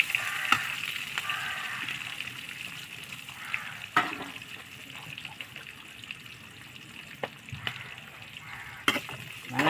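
Onions sautéing in a pan over a wood-fired stove, a steady close sizzle and crackle of frying with occasional sharp clicks and light scraping stirs, no voices.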